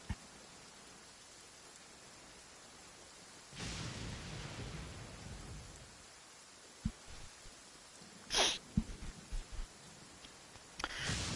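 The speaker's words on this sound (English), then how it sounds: "Very stormy day in Genshin." A thunderstorm in the video game Genshin Impact brings steady rain hiss with a low rumble of thunder swelling in the middle and a few sharp crackles near the end, faint overall and with no talk.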